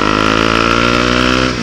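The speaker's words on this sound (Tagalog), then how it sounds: "Tunog mayabang lang yung motor ko, pero takbong XRM lang yan." A Honda XRM motorcycle engine revs loud and close, a steady, buzzing mid-pitched drone held throughout before dipping slightly at the very end.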